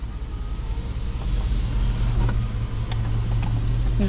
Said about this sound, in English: car engine.